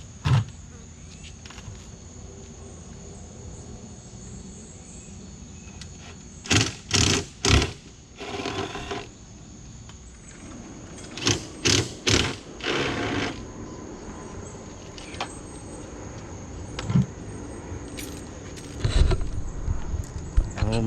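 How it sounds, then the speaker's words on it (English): A power drill bores rivet holes in a Dodge Challenger Scat Pack body for a wickerbill spoiler, sounding as several short close whirring bursts in two groups, with quieter handling noise and a high steady whine between. "we got them holes drilled"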